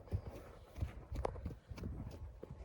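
A purebred Vladimir draft mare moves about, her hooves giving soft, irregular thuds and clops at close range, fairly faint against a quiet background.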